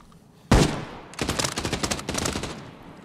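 Gunfire in Arena Breakout Infinite: one loud close shot, then a rapid automatic burst of rattling shots followed by another short burst, with no talking over it.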